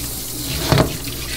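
Tap water runs steadily at a kitchen sink while a yellowtail is being washed before filleting, with a brief louder splash midway through the short stretch.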